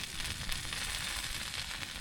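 Steady, loud sizzling of food frying over heat, a continuous hiss with faint crackles running evenly throughout.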